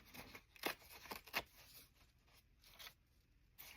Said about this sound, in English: I'm going to tear off the edges that are not embossed.